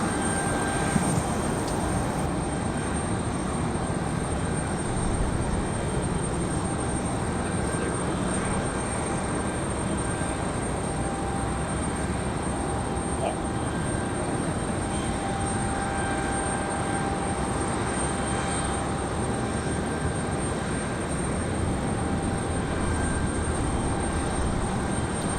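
A jet airliner, a JetBlue arrival from JFK, comes in to land at Raleigh-Durham International Airport, its engine roar a steady, broad and moderately distant rumble that holds evenly throughout with no voices.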